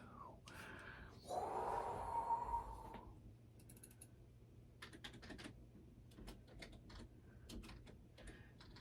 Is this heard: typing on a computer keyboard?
yes